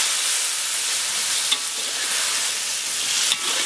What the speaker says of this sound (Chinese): 现在我们把剁辣椒下进去